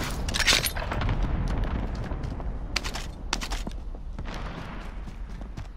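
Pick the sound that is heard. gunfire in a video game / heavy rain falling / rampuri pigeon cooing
gunfire in a video game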